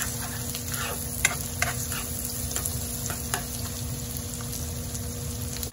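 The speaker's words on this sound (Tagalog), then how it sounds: "i-fry natin ito ng, saute natin ito ng saglit guys" Onion and garlic sauté in a hot pan with a steady close sizzle and occasional light spatula ticks, continuous and even throughout, no voices.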